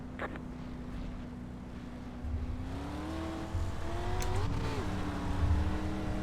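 Dirt street stock race cars in the iRacing video game pull away from a rolling start at Fairbury, a steady engine drone climbing in pitch as they accelerate, with a rising rev and brief dip near the end.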